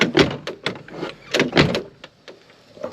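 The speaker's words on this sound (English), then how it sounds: "this front door handle, actually, this might be my best door handle" A van's front door handle is worked repeatedly, giving a quick run of close, sharp clicks and clunks from the latch and handle, with no one speaking.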